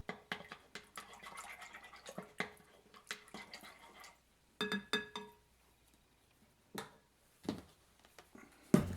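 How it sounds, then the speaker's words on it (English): Instant yeast being stirred with a spoon in a bowl, quick irregular clinks and soft liquid taps in a short burst of scattered strikes, then a near-silent pause and a few final sharp knocks. "I'll give it a quick stir"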